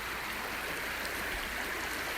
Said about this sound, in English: Water's moving a little fast here.